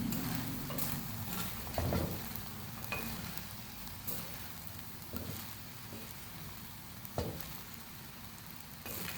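Colored rice being stirred in a hot pan with a steady sizzle and occasional scraping strokes of a spoon, close and continuous.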